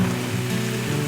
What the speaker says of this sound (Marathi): बघू शकता भरपूर पाऊस आहे